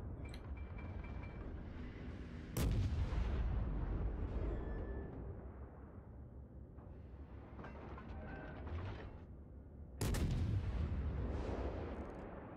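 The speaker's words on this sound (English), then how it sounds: "off to shooting actual ships now" Naval artillery fire in World of Warships, two heavy booming salvos a few seconds apart, each followed by a long rumbling tail over constant engine and sea noise, loud and close.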